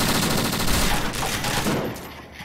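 Gunfire in the video game DayZ Standalone during a battle at a military tent city, a dense, loud rapid burst of shots that continues for about two seconds and then eases off.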